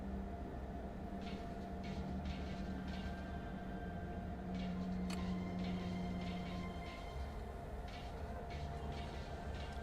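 A passenger train rattles and rumbles as it slows down in Train Sim World 4, a continuous dense clatter of carriages with a steady low drone and faint squeals, loud and alone.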